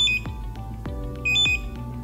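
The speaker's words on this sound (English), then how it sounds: "ensure that you hear a beep after each scan." A delegate name badge scanner gives short, bright electronic beeps, one near the start and a pair of quick beeps later, each cutting through a low rumbling background with thumps.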